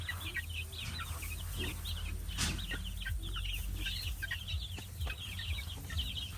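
Young early-bird chicks about a month old cluck and chirp in a flock, many small overlapping calls at a distance, faint over a steady background hum.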